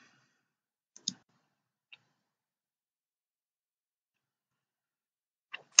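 Sharp, isolated computer mouse clicks in a quiet room during WordPress site work, a couple of close clicks near the start, one lone tap, then a final pair after a long silence.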